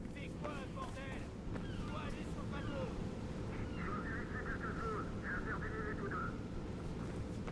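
Ferry harbour ambience in the video game Mirror's Edge: a steady low rumble of engine and water with wind, faint chirping gull-like calls above it, continuous throughout.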